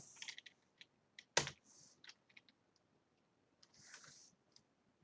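Someone types a git clone command on a computer keyboard: sparse, quiet key clicks in short bursts, with one louder clack and a brief rattle of keys in a quiet room.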